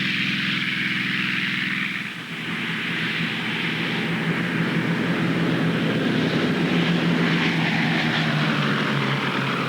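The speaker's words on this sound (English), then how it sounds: "P-51 Mustang." A P-51 Mustang's propeller engine gives a steady, loud droning roar that holds level throughout with a slight dip early on, and no one speaks.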